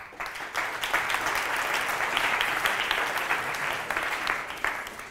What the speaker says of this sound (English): Big round of applause for these 2.